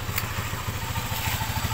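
A motorcycle engine with a wiring fault keeps idling after being switched off, a steady close rhythmic putter with light mechanical clatter.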